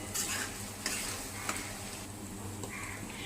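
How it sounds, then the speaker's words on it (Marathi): Curry leaves crackle and sizzle in hot tempering oil with onion and green chili while being stirred, a steady close frying hiss with a few sharper pops. "आता आपण कढीपत्ता पण त्या फोडणीत टाकून घेऊया तो पण कांदा मिरची बरोबर चांगला शिजला जाईल"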